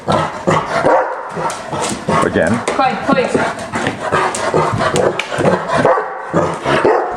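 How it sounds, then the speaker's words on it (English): A dog barks and pants repeatedly, close by and loud, while a person gives short commands over the noise. "We hear a dog barking."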